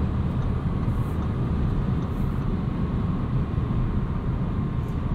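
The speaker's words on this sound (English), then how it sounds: "Wind noise, road noise, all pretty good." Inside a 2022 Audi S3 on the move with winter tires, a steady low road roar and wind hiss fill the cabin evenly at moderate level, with no talking.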